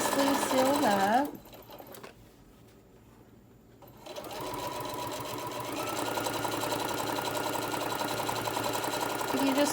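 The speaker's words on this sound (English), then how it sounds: "I always sew the side that's open first" A sewing machine stitches along the open side of a cross-body cell phone bag with a fast, even mechanical whir. It stops briefly and then runs steadily again, with a voice speaking at the start.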